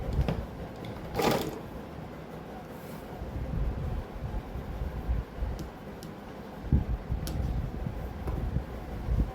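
A sewing machine stitches a sleeve seam in short bursts of rapid ticking and whirring, separated by pauses and small handling clicks, close and moderately loud.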